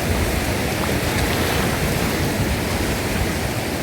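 Ocean waves make a continuous, dense roar of surf, loud and even throughout with no distinct breaks and no talking.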